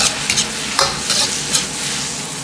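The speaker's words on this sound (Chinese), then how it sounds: "炒匀后倒入鸡蛋，翻炒均匀" Lettuce stem and beaten egg stir-fried in a hot wok, with steady sizzling and repeated scraping, tossing strokes of the spatula close by, no voices.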